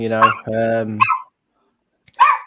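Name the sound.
dog barking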